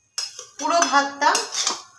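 Egg and chicken fried rice stirred and mixed in a metal pan, rapid scraping and clattering of a utensil against the pan in two or three bursts, close and fairly loud.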